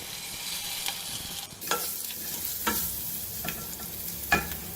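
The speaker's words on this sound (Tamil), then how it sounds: "பச்சை மிளகாய் போட்டுக்கிறேங்க, இந்த சிறுபருப்பு போட்டுறேன்" Moong dal tipped into a hot pan of tempering with asafoetida and green chillies, giving a steady low sizzle with a few sharp crackles and stirring scrapes; no one speaks.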